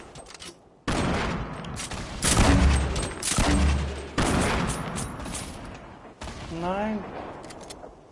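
Video game firefight with rapid bursts of gunfire and sniper shots crackling densely over a few seconds, and a player's voice speaking briefly over the shooting.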